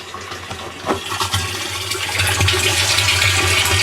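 Rain barrel water driven by an electric water pump gushes steadily through a garden hose, a continuous rushing splash with a low motor hum underneath that grows slightly louder toward the end, no talking.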